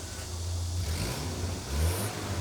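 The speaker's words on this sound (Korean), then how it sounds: "차 문이 닫히고 시동이 걸립니다" Car engine from a movie scene, a steady low rumble that swells slightly toward the end, loud and continuous with no voices.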